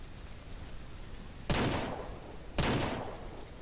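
Two sharp, loud gunshots from a rifle fired at deer in the video game Ranch Simulator, about a second apart, each followed by a short decaying tail over a steady low background.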